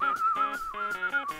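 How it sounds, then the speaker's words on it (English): A thin, steady high whistle pulses in short bursts, quiet and close, like steam hissing out of bubbling cheese under heat. "Hear that? The cheese is whistling."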